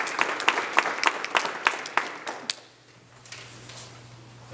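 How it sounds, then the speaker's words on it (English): A small audience at a county school board meeting gives student athletes a round of applause: sparse, distinct claps for a couple of seconds that thin out and stop, leaving a quiet room hum. "let's give our student athletes another round of applause for these accomplishments"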